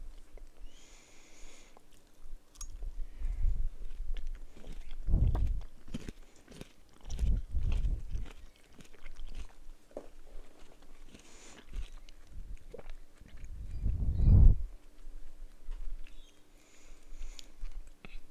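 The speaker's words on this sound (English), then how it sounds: "Okay, that was very sweet and easy to chew." Rock melon being chewed close up, with several bursts of wet crunching and biting spaced over the clip and quiet gaps in between.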